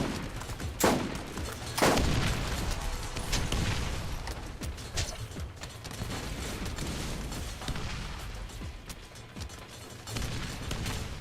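Gunfire in the Borderlands video game, with sharp loud shots opening the scene and then a dense, continuous clatter of weapons and battle noise with no voices.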